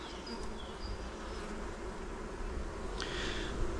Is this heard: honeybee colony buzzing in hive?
yes